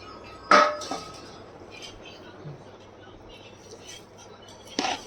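A spoon mixes upvas chakli ingredients (bhagar, sabudana, potato) in a pan, giving a few sharp metallic clinks with quiet scraping between them, while someone talks softly in the background.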